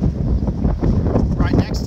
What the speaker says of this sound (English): pardon any wind noise, it is extremely windy today